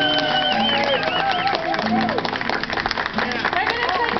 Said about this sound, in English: I think we're going to clap.